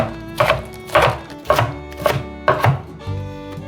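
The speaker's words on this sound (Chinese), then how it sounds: "把美生菜切丝，" A knife shreds lettuce on a cutting board for vegan sushi sandwiches, five crisp, evenly spaced chops landing about every half second, close and clear.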